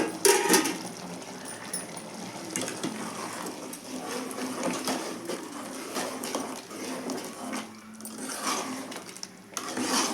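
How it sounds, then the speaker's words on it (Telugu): A spoon scrapes and stirs a pot of chicken curry with blended tomato, giving soft continuous clinks and shuffling sounds at close range with no talking. "ఒకసారి కలుపుదాము."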